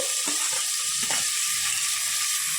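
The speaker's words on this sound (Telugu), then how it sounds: "ఆ తర్వాత టమాటో ముక్కలు, పచ్చిమిర్చి 2" Tomato pieces and two green chilies fry with onions in a pan for dhaba-style moong dal, making a loud, close, steady sizzle with a couple of soft stirring knocks and no talk.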